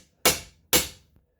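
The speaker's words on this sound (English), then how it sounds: "you're going to be hammering on the jaws of the vise" Two heavy hammer blows on steel vise jaws flattening a small aluminum rivet while repairing a loose handle on an aluminum pan, each a sharp close metallic strike about half a second apart, with a faint tap after.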